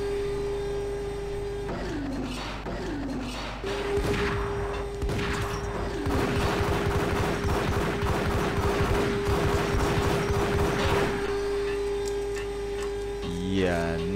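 Gunfire in the video game Max Payne rattles in dense overlapping bursts through the middle of the clip, over a steady electronic hum and game sounds.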